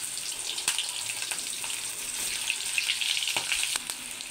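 Onions frying in oil after sugar, bay leaf, cumin and cinnamon: a continuous bright sizzle at moderate loudness with scattered small pops and stirring scrapes, close and without talk.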